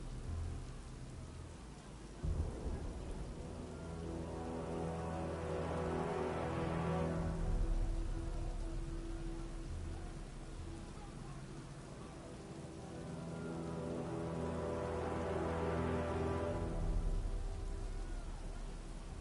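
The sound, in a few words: rain and thunder in the video game Batman: Arkham Knight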